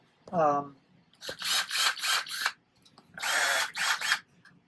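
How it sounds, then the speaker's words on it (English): A Ryobi ONE+ 18-volt cordless drill whirs in several short bursts, revving up and stopping, with a brief spoken word at the start. "Here's my Ryobi drill."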